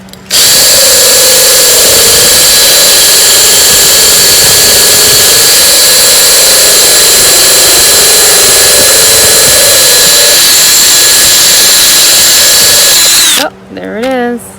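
A power drill with a steady high whine bores drainage holes through planters, running loud and continuous for about thirteen seconds at constant speed before stopping with a brief wind-down.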